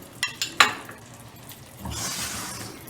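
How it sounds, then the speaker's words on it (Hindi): A few metal clinks of a spoon against a pan, then ghee hits roasting semolina for halwa and breaks into a soft, steady sizzle that builds and holds, close by with no talk. "अब हम अपना घी इसमें ऐड करेंगे।"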